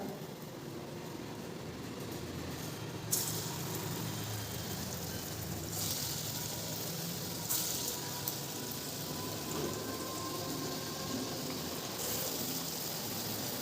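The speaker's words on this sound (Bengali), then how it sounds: "তো তেলটা গরম হয়ে গেলে দিয়ে দেব আর একটু বড় বড় করে ভাজবো" Lentil fritters (dal bora) frying in hot oil give a steady, loud, broadband sizzle throughout, with a few brief louder pops and crackles.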